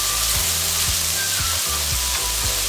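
Ginger garlic paste with green chillies sizzles and fries steadily in a hot pan for a pepper chicken curry, with a close, continuous crackle and a few rhythmic stirring scrapes.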